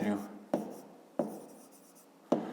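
Pen or pencil scratching on paper while measurements are written out for a fifth-grade math exercise, a few short quiet strokes in a steady rhythm, close and alone.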